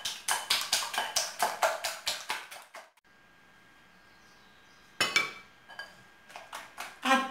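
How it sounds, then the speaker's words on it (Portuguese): Four eggs are whisked in a bowl with a fork, giving rapid, rhythmic clinking taps in quick bursts, broken by a pause of near silence before the beating resumes briefly. "eu vou só bater os ovos, ó. São quatro ovos"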